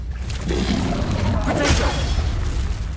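Confringo, an explosive spell in Hogwarts Legacy, bursts in a continuous dense blast with rumbling booms and crackling, steady and loud throughout, with a voice partly audible underneath.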